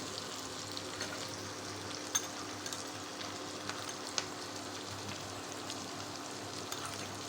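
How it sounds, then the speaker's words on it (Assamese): Soy sauce mixture poured into a hot pan of frying paneer for chilli paneer, giving a steady sizzle and crackle with a few sharp pops, close and fairly quiet, with no talking. "ইয়াত মই এতিয়া চয়া চচৰ মিক্সাৰটো দিম।"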